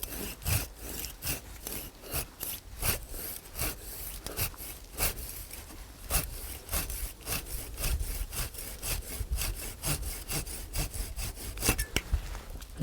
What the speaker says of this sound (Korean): 이걸 자를 때도 밑에다가 점에 톱질을 좀 넣어주고요